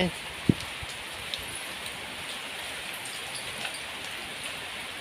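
Rain falling steadily as a soft, faint hiss, with a few sharper drips or taps standing out and a voice briefly near the start.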